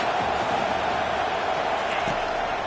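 Stadium crowd roar from College Football 25, Iowa State vs Texas, a steady loud wash of massed voices filling the whole clip under commentary.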